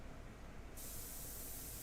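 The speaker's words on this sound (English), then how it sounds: "So the trick is to spray and move, right?" An airbrush sprays paint at 30 PSI onto a portrait, a steady close hiss that jumps louder and brighter partway through as the trigger opens fully, continuous with no talk.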